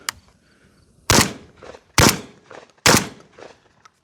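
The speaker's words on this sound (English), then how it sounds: "let's go ahead and just do a couple rounds in the dirt here just to show you the recoil." Beretta A300 Ultima Patrol 12 gauge shotgun with a roughly 19-inch barrel firing into dirt outdoors, three loud, close blasts spaced about a second apart, each with a short echoing tail.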